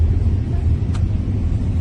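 A vehicle engine strains in first gear, giving a steady low rumbling drone that stays loud and close throughout, with no talking.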